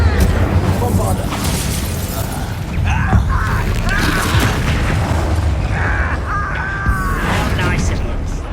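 A Bombarda blasting spell in Hogwarts Legacy goes off as loud booming blasts with mechanical rattling and crackling, mixed densely with game sounds and voices talking throughout.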